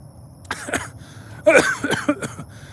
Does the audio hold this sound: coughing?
yes